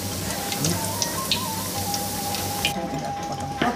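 Crispy fried pork being cut on a board after frying, a quick series of crackly crunches close up over a sizzling, dripping background, with no talking.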